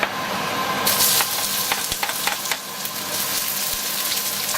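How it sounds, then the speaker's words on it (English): Thinly sliced half onion sautéing in hot oil in a pan, giving a steady, loud sizzle and crackle with scattered pops and a few stirring scrapes, heard alone. "I am gonna saute the onion."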